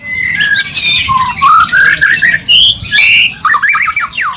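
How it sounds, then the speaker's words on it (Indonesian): A white-rumped shama (murai batu) sings loudly and continuously at close range, a rich run of varied whistles, rising chirps and squawky phrases tumbling one after another with brief gaps. "Kali ini kita akan bahas seputar burung murai."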